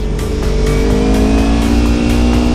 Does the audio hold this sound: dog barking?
no